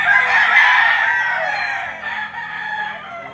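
A Gilmore hatch gamefowl rooster crows loudly and close at a livestock auction market in Lipa, one sustained call lasting the whole moment over faint background murmur.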